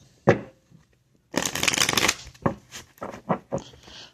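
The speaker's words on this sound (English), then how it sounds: "I'm picking up to do one more shuffle before we begin." Tarot cards are riffled and shuffled in a few quick bursts: a short snap, a long dense riffle, then several brief flicks, close and crisp.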